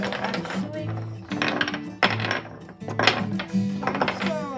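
Dice rattling and clattering against a hard surface as they are mixed and rolled, in several separate bursts of tumbling clicks while a voice talks now and then.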